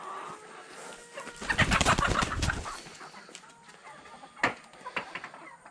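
Chickens cluck and squawk in a short burst, fairly close, with a few quieter calls afterward against a faint outdoor background.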